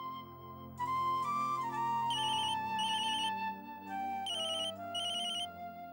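A telephone ringtone plays in a home, a bright melodic electronic tune of repeating high tones that rings on steadily and fairly loud for several seconds with no talking.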